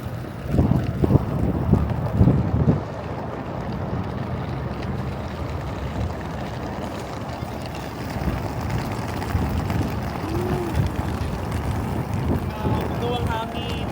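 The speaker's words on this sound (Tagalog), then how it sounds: "Ang hangin." Wind buffets the microphone in a continuous rough roar outdoors near the Odaiba waterfront in Tokyo, with a voice talking intermittently beneath it.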